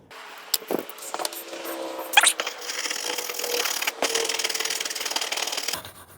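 A wire brush and sandpaper scrub rust and corrosion off the roof of a Class B van: a steady, harsh rasping scrape that runs for several seconds after a few light knocks, close by, with no voices.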